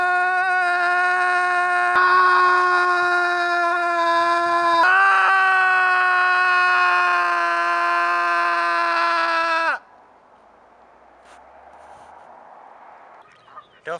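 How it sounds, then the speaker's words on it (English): Loud sustained screaming outdoors holds a strained, wavering pitch for several seconds without a break, then stops abruptly and leaves faint outdoor ambience. "nature is a great place for screaming"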